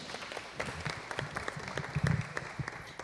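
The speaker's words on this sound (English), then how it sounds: "How about a round of applause?" A civic assembly audience in Nairobi gives a round of applause after a presentation, made of distinct, uneven claps and brief crowd sounds that rise in density toward the middle, fairly close and moderately loud.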